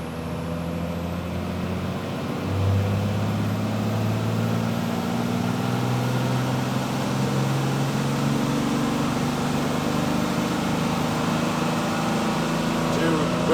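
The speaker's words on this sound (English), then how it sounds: "we dropped the wastegate, we're gonna do another run here and see how she does." Turbocharged engine on a dynamometer after a wastegate change, a steady loud drone running the whole time with a rising pitch about two seconds in, likely with voices underneath.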